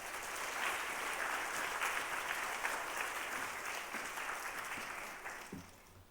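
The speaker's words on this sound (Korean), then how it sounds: "강사 목사님 나오실 때 큰 박수로 환영해 주시기 바랍니다." A youth-service congregation at a church breaks into sustained, dense applause to welcome a guest pastor to the pulpit, a full steady roar of clapping that tapers off near the end.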